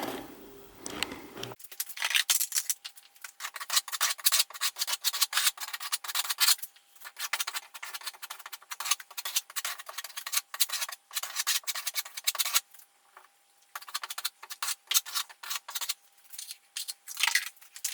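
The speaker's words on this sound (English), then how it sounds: "I pulled all the little wall anchors out, so now I have to plug this" Filler being pressed and scraped into small wall anchor holes in an apartment salon wall, heard as dense bursts of close scraping and rubbing strokes, with short pauses between passes.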